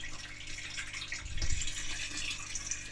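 Water poured back into a planted African cichlid aquarium, a continuous splashing and gurgling stream at moderate distance with a low, rumbling surge midway; no voices.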